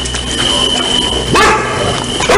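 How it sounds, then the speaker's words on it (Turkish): Dogs bark in a village, a couple of loud, close barks over steady background noise, with no talking. "Köpekler boşu boşuna bağırıyormuş bu köyde."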